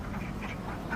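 Ducks quacking on a village fish pond on a hot day, a steady, moderately close chatter of calls with no talk over it.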